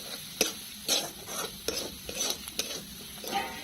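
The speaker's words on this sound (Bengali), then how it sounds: "সুন্দর করে ভেজে নিচ্ছে" Garlic, ginger and spices frying in a pan give a steady close sizzle, broken by regular sharp scrapes and clicks of stirring roughly every half second, with no talking.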